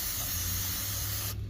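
Throttle body cleaner from an aerosol can sprays into a bowl during cleaning of a Nissan Xterra 4.0 throttle body, a loud steady close hiss that cuts off abruptly near the end.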